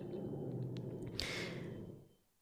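Soft, low breathing of a snoring dog with a snorting rasp, close and quiet, fading away toward the end.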